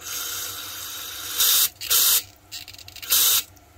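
An airbrush blasts three short bursts of hissing back spray while being cleaned with the nozzle clamped under fingers, each burst loud and close, separated by a quieter background hiss.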